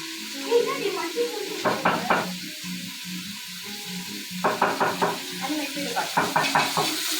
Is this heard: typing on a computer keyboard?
no